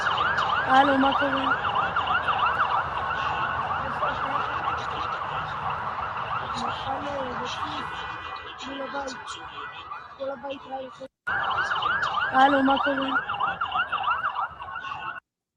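Several ambulance sirens wail together, their rising and falling tones overlapping in a steady loud chorus that briefly cuts out near the end.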